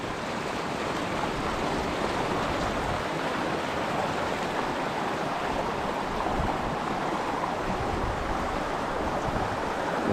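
A creek waterfall in the Pennsylvania wilds gives a steady, full rushing roar of falling water, loud and unbroken throughout, with no voices.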